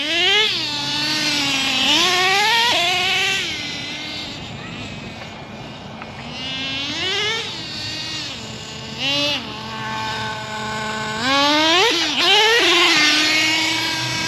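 A Traxxas T-Maxx nitro RC truck engine, still a little cold, revs up and down repeatedly, its loud, close, buzzing whine sweeping in pitch, bogging briefly after takeoff and then screaming up again.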